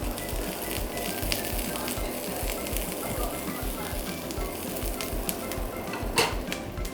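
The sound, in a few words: onions sizzling while stirred in a frying pan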